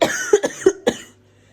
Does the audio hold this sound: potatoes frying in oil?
no